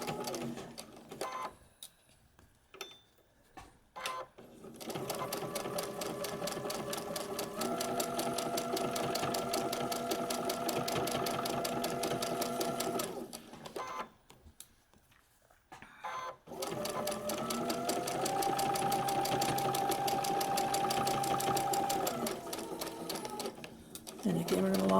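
A domestic sewing machine stitches quilt block seams in steady rapid bursts, pausing twice for a few seconds between runs, with a speaking voice heard over the mechanical whirring.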